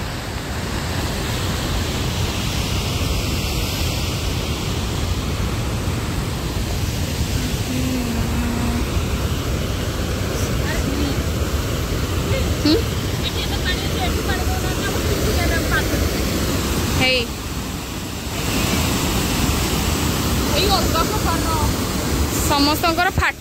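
Water rushes and splashes loudly and continuously, a dense, unbroken roar close by, while a person talks over it.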